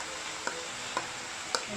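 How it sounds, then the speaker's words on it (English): Spring onion and chili stir fry in a pan for nasi goreng, a faint steady sizzle broken by three light ticks of the utensil scraping or tapping. "Stir fry like 1 minute."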